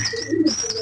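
Pet pigeons coo nearby after eating grit, a soft low throaty warble with a brief chirpy overtone, close and clear with no voices.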